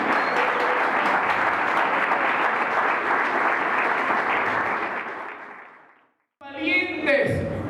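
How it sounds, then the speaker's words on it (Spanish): A church congregation at a missionary service claps in loud, sustained applause that fades out over several seconds, followed by a brief gap and then a short burst of voice. "Démosle un aplauso a Jesús."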